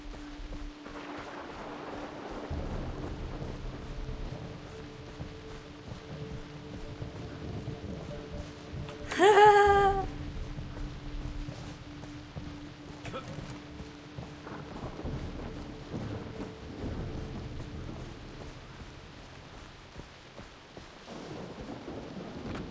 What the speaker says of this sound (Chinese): 啊，下雨。